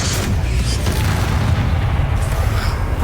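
Spell explosions from Confringo in the video game Hogwarts Legacy: a dense, continuous low rumble of booms, loud and close, with no gaps.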